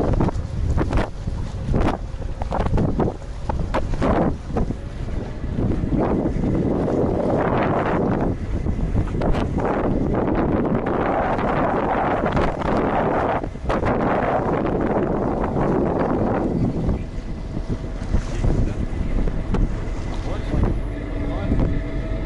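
A ferry crosses the Olkhon Gate strait on Lake Baikal, its steady engine rumble mixed with strong wind buffeting the microphone, loud and close throughout, with gusts swelling and easing over about twenty seconds.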